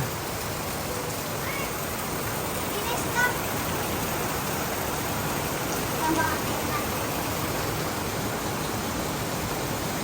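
Heavy rain pours down in a steady, dense hiss that stays even and loud from start to finish.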